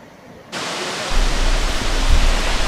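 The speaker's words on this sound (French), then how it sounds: "La cascade de la Bilaude" The Bilaude waterfall in the Lemme gorges, Jura: a dense, constant roar of falling water cuts in abruptly after a moment of quiet and holds steady and loud, with a deep rumble underneath.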